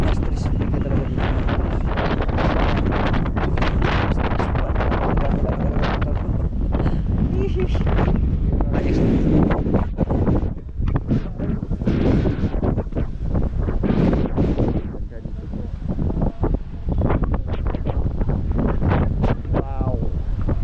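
Strong wind buffets the microphone continuously, loud roaring gusts with brief dips, and open-air noise throughout.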